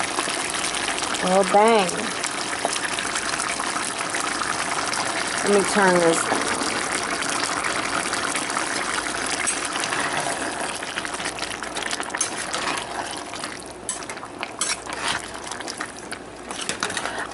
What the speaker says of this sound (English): it's time to pour in that tomato sauce.